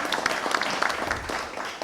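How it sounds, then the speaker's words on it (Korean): Audience applause at a university conference, a dense patter of many hands clapping at moderate distance, fairly steady and then easing slightly toward the end. "큰 박수로 맞이해 주시면 감사하겠습니다"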